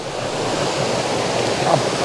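A woodland cascade pours over leaf-covered rocks into a stream, a steady close rush of water that fills the whole clip evenly, with no talk.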